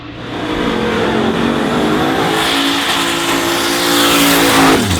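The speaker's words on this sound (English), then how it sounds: "Burnout looked good." Big-tire drag race car doing a burnout at a drag strip event, a loud sustained engine roar with screeching tire squeal that climbs in pitch and cuts off sharply near the end.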